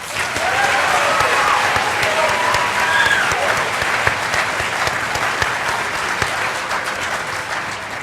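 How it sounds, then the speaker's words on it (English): A school auditorium crowd applauds student jazz musicians after their prelude performance, steady dense clapping with a few scattered whoops, sustained loudly for the whole stretch. "Let's offer our student musicians a round of applause."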